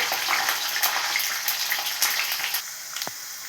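Mustard seeds and fenugreek seeds frying in hot oil, a steady crackling sizzle with dense popping, close and loud throughout with no talking.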